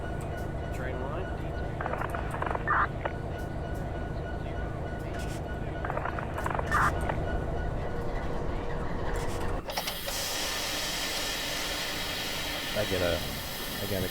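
Locomotive engines drone and rumble steadily in the Run 8 train simulator game, with hissing and a shift in tone partway through, while people talk over the sound.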